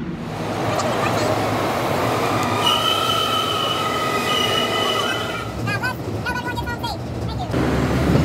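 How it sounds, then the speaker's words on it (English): A 405 subway train rolls along loudly and steadily, wheels squealing in high sustained tones on the rails, with clattering and screeching building near the end and faint voices underneath. "now we're gonna go take the 405 train"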